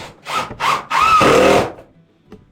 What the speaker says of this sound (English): just screwing in those knee walls